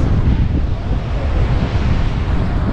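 Giant ocean waves pounding Nazaré beach with strong wind, a loud continuous roar of surf and heavy wind buffeting the microphone throughout, no talking.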